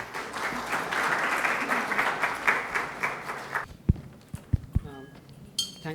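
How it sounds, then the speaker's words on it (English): A conference audience applauds as CEO panelists walk onto the stage, a full crowd clapping steadily for about three and a half seconds, then breaking off into a few scattered claps and knocks with a voice near the end. "Let's give them a big round of applause"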